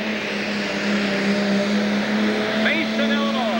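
A 10,000 lb pro pulling tractor at an Illinois pull revs up hard at the start of its run, a loud, steady engine roar with a strong low harmonic hum and a rising whine near the end.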